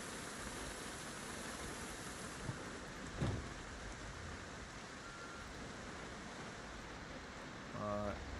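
Steady rain in Project Zomboid, a constant hiss of drops on surfaces, moderately loud and unbroken throughout, with a faint dull thump near the middle.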